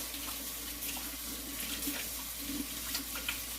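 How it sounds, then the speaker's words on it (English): Hands are washed under a running kitchen tap while bread dough is being made, the water streaming steadily and splashing with small irregular spatters throughout. "Let me wash my hands."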